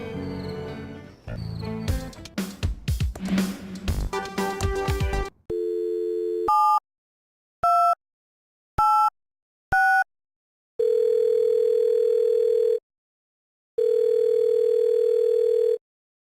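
A radio station's phone line in the Thimbleweed Park video game: a burst of jumbled electronic tones, then short beeping pulses, followed by two long steady dial-tone blasts separated by silence.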